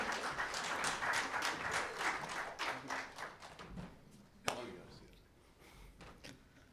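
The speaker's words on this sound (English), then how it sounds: "Come, big round of applause for Anil." An audience at a Kamal Motors event stage bursts into a round of applause, fairly close clapping that fades over a few seconds, followed by a sharp thump and a voice speaking.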